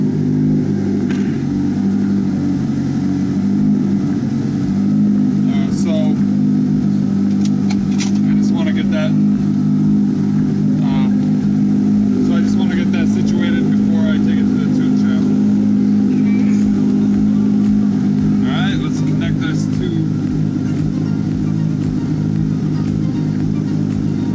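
A DSM car's 4G63T turbocharged engine idling at around 1500 rpm, a steady low rumbling drone close by, constant throughout, with someone talking over it.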